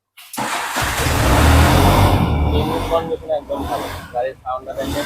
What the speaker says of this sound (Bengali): গাড়ির সাউন্ড খুবই সুন্দর দেখেন